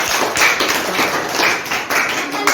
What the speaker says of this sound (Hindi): शाबाश एक बार तालियां बजाओ इसको।